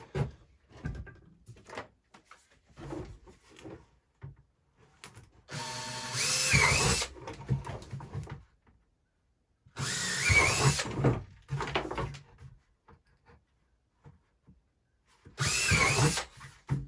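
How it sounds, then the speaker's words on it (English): Power drill boring holes in a plastic chicken waterer, three loud close bursts of whining motor and cutting, each a second or two long, separated by quiet handling clatter. "that's where I'm going to drill my holes, and then I'm just going to thread these in"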